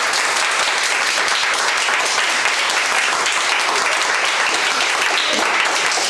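A church congregation at a Sunday service claps loudly for the Lord, a dense, continuous roar of many hands that stays steady and unbroken for about six seconds.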